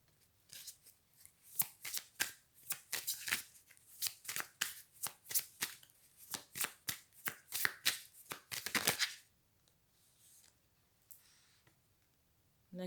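Tarot cards are shuffled by hand, a fast run of crisp riffling bursts in quick succession for about nine seconds. The shuffling then stops, leaving near silence before a faint sound at the end.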